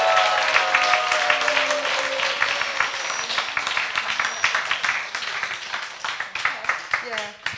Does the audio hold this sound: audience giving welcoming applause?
yes